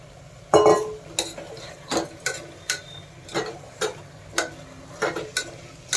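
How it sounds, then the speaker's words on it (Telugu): Washed rice stirred and frying with chicken in a pan for green chicken rice, a series of sharp scraping stir strokes at a steady rhythm over a low, continuous sizzle, close and fairly loud, with no talk. "రైస్ 2 మినిట్స్ చికెన్లో వేగనివ్వాలి."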